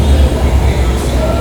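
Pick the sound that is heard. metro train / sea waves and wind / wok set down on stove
metro train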